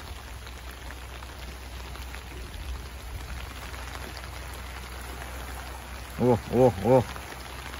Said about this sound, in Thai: โอ้ยน้ำเนี่ยฝนเริ่มมาครับ